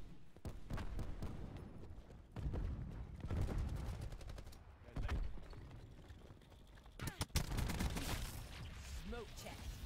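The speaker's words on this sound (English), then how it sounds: "Cluster grenade going out." Cluster grenade blasts and gunfire in a Call of Duty Black Ops 4 match, a series of sharp bursts and rattling explosions with players talking over them at low overall level.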